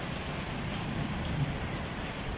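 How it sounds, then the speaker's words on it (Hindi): Heavy rain in Saudi Arabia pours down steadily, a dense close hiss of drops on surfaces with no voices. "इतनी ज़्यादा हैवी वाली रेन हो रही है माशाल्लाह"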